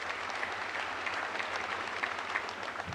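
A church congregation applauding together during a Sunday service, a dense steady clapping wash that holds at an even level for a few seconds without voices on top.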